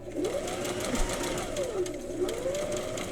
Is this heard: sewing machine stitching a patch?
yes